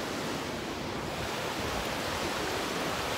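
Ocean waves wash onto a beach as a dense, continuous roar of surf that stays loud and even throughout, with no voices.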